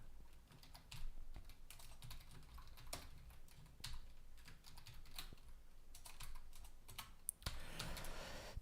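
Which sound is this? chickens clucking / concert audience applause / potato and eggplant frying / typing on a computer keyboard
typing on a computer keyboard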